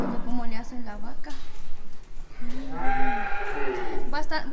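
Cattle on a farm moo repeatedly at close range, several drawn-out calls overlapping, with people talking quietly in the background.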